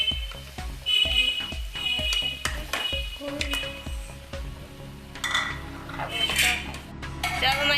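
Macaroni tipped into a pot and stirred with a metal spoon, a dense run of clattering metallic scrapes and clinks at close range, loud and continuous, easing into softer stirring toward the end, with no talking.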